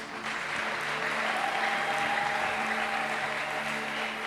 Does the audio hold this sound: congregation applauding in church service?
yes